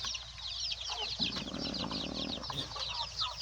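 Breeder mother hens on a small chicken farm cluck softly and repeatedly, their calls layered over a constant background hum and a busy shuffling stretch in the middle.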